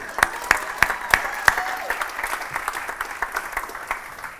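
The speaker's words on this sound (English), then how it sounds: "Can I get a round of applause?" An audience applauds, starting with a few sharp claps and settling into a scattered, steady patter that gradually thins out.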